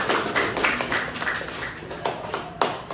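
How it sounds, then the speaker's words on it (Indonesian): Classroom applause during a lesson, a handful of people clapping in a loose, uneven patter of sharp hand claps with a few louder claps standing out, fairly close. "Tepuk tangan dulu"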